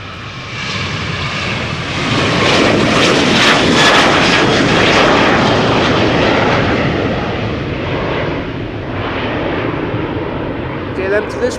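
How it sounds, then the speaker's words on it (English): A KLM Boeing 737 bound for Lisbon takes off from Schiphol's Polderbaan runway, its loud jet roar swelling to a heavy peak and then slowly fading as it climbs away. "KLM to Lisbon 737."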